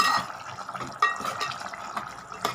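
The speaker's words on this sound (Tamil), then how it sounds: "நாங்கள் தேங்காய் ஊற்றுறோம்" Coconut milk poured into a simmering stalk-amaranth gravy (thandu keerai kuzhambu), a soft liquid trickle and splash with a few brief spikes, close and quiet, no talking.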